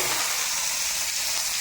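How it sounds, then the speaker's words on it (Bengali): Cucumber pieces frying in a pan with salt and turmeric, a loud close continuous sizzle with no break. "তো আগে এবার শসাগুলো ভেজে নিচ্ছি।"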